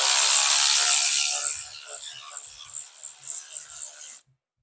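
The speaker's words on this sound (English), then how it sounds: "We're going to take that 10mm bolt right there out." A 10mm bolt comes out of a Honda VTX 1300S motorcycle with a ratcheting, rasping tool sound that starts loud and grows fainter in short bursts before stopping.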